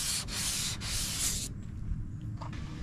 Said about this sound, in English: So I'm sanding that out with some 320.